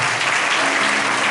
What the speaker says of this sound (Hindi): जोरदार ताली बजा दे इसके लिए।